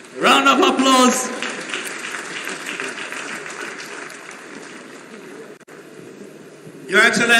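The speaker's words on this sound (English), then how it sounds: "Round of applause." Crowd applause rings out at a Nigeria 60th Independence Day ceremony, a sustained wash of clapping that slowly fades over several seconds, with a speaker's voice at the start and end.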